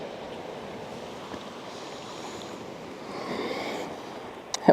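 Water waves roll in nearby, making a steady, broad wash of surf. The sound swells slightly louder near the end as a wave comes closer. No one speaks.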